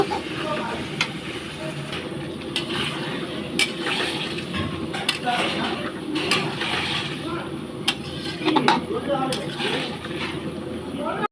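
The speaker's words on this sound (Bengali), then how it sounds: "আলু দিয়ে দিয়েছি আলু দিয়ে কষাচ্ছি" Potatoes stirred and sautéed in a pan for a fish roe curry, with repeated clinks and scrapes of the utensil against the pan under a running sizzle while someone talks.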